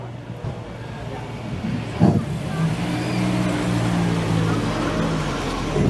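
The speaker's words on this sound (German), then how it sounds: "Hier einfach ein Traum von einem Auto, ein XK140 Drop, Drophead Coupé." A classic Jaguar XK140 Drophead Coupé rolls past at an oldtimer parade in Essen-Rüttenscheid, its engine a steady low rumble that grows a little louder as it goes by, with a brief knock near the start and background crowd noise.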